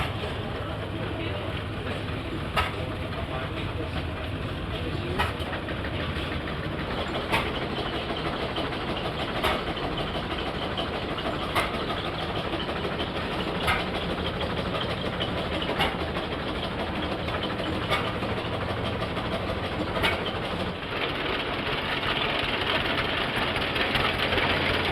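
Old engine powering American Thresher Milling Company equipment at a tractor show, a steady mechanical chugging with faint regular knocks every couple of seconds, moderate distance, voices faint in the background.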